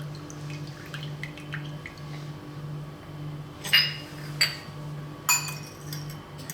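Water poured onto an egg and mixed with a fork: a few bright clinks of the fork against the dish over a quiet steady hum, with a faint trickle before them.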